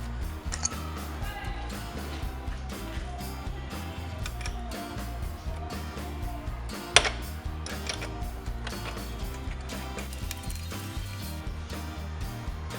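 Wrench loosening the locking nut on a Yamaha Fazer Fi (FZ V2.0) motorcycle chain adjuster, a steady run of small metallic ratcheting ticks and clicks with one sharper clank partway through, close and moderately loud, no talk.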